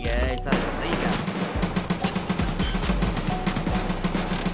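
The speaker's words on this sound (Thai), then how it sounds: "ยิงถี่ไปนิดนึง" Rapid automatic gunfire in Escape from Tarkov, a loud, close burst of evenly spaced shots that keeps firing for several seconds after an opening blast.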